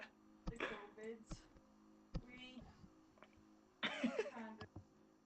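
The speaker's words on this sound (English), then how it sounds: "I'm coughing on you" A few sharp coughs break up close-up chatter, with people talking and laughing around them.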